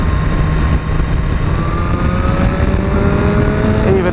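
2017 BMW S1000RR sport motorcycle pulling hard in sixth gear, the engine tone climbing steadily and loud under heavy wind roar throughout.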